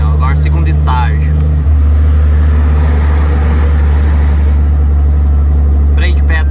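A Volvo FH 380 truck descending with its engine brake in the second stage gives a loud, steady low drone that deepens and thickens partway through, with someone talking briefly at the start and end.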